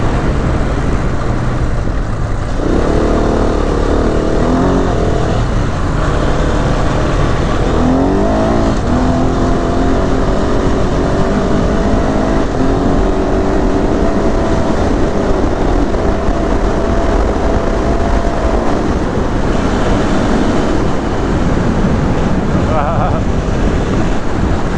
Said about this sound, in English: that feels so good just to be able to open accelerate like that